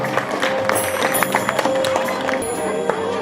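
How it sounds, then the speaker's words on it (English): Applause from an audience at a community gathering in Newcastle upon Tyne, with scattered claps and a few louder hand strikes over a steady crowd wash, while a voice carries on speaking through it. "Big round of applause for Sajawal Khan"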